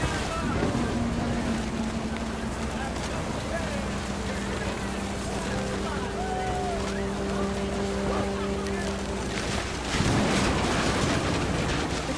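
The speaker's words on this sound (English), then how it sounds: "Rain came down in buckets then" Heavy rain pours steadily in the video game What Remains of Edith Finch, a dense roar that fills the whole clip, with faint sustained tones running underneath and a brief surge near the end.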